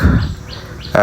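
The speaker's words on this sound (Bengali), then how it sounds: "পাখির ডাক" Bird calls ring out in the Sundarbans mangrove forest at Kotka, three short rising chirps spaced evenly, then a sharper burst at the end over soft ambient rustle.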